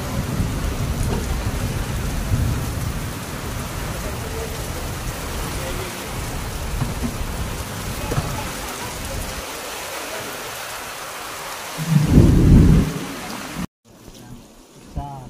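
Heavy rain pours steadily, and a deep roll of thunder swells near the end before the sound cuts off abruptly.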